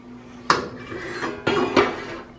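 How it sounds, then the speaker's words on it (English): A metal pot of stovetop fudge is lifted off the heat, giving a few sharp clanks and scrapes of cookware against the stove and utensils, close and distinct, with no talk. "I'm going to take that off the heat."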